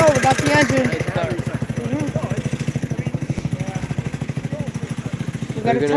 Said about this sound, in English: Here we go, we got the engine. Nice car.